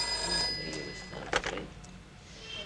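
An old-style telephone bell rings in an indoor room, a moderately loud ring with a sharp burst in the middle, fading under a faint background hum with no talking.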